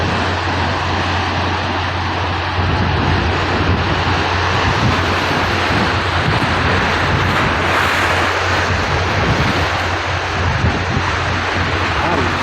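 Sea waves and strong wind rush steadily over Manila Bay, a dense, continuous roar buffeting the microphone, with occasional talking beneath it.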